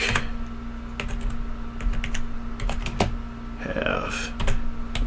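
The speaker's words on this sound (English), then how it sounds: "I'm kind of bent over here typing weird" Rapid clicking keystrokes on a computer keyboard, irregular bursts of typing close to the microphone over a steady low hum, with no talking.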